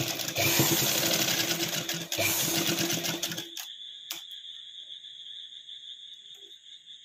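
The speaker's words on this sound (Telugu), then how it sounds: "దీని మీద స్టిచ్ చేసుకోవాలి." Domestic sewing machine stitching along a folded fabric edge, a loud dense whirring run for about three seconds, then it stops leaving a faint mechanical hum and a single click.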